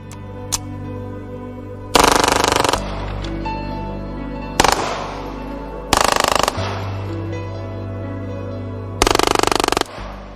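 An Uzi submachine gun fires 9mm rounds in four short, loud automatic bursts separated by pauses, each a rapid rattling burst with lingering echo and background music underneath.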